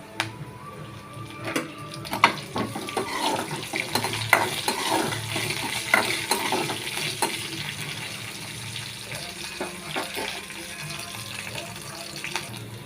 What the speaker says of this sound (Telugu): వేగుతుందండి కరివేపాకు వేసుకుందాం